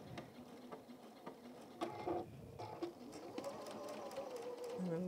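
A sewing machine stitches a Tilda goose toy in short bursts of quick mechanical rattling, faint and close, with small pauses and handling clicks between runs.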